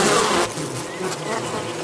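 A bee drunk on alcohol buzzes in unsteady flight, a loud close insect drone that wavers in pitch and intensity, dipping after the first half-second and carrying on.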